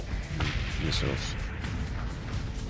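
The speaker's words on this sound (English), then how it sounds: "Missiles." Missiles launching and detonating in the space combat game Starsector: a run of booming blasts and bursts, loud and close, layered over a continuous rumbling battle din.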